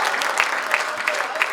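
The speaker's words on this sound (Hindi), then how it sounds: "और चंबल का आदमी आज प्रेम की बात करेगा इसलिए तालियां बजाइए आप।" Audience clapping at a live Hindi poetry gathering, a steady, dense patter of many hands filling the hall with no voices on top.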